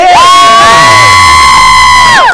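A short, loud burst of crowd cheering greets a podcast co-host in a festive studio, with a swelling, bright, tonal roar that holds for about two seconds and then cuts off.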